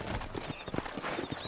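Horse hooves clip-clop in Red Dead Redemption, a quick irregular series of hollow knocks under faint background ambience.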